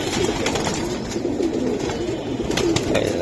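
Pigeons, including Giribaz and other fancy breeds at a market seller's stall, coo repeatedly in soft, throaty rolling calls, close and overlapping amid a busy background murmur.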